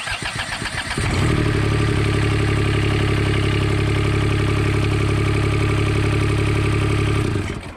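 A John Deere 430 diesel lawn tractor with a fuel leak cranks briefly, fires up and settles into a loud, steady, close-up diesel idle that runs for several seconds before cutting off.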